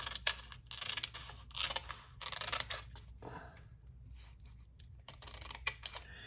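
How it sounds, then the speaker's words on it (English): Scissors snip through a rub-on transfer sheet in several short bursts of crisp cutting, close and fairly loud, with brief pauses between cuts and no talking. "I have a rub-on that I'm gonna cut a piece of"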